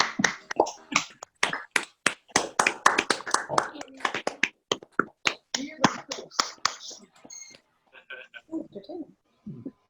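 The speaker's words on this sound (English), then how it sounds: "Can we give Rob a round of applause, please?" Applause on a video call for a speaker, a burst of close, uneven claps and snaps from several unmuted participants that thins into scattered claps, with brief voices near the end.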